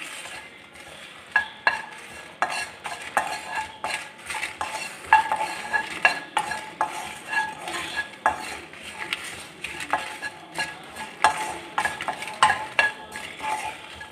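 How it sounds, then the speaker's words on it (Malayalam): Dried red chillies roast in a pan amid a busy run of metallic clanks and scrapes from frequent stirring, over a light background sizzle. "ഈ മുളക് ഇങ്ങനെ മുറിച്ചാൽ പൊട്ടുന്ന രീതിയിൽ വേണം ഇതൊന്ന് വറുത്തെടുക്കാൻ."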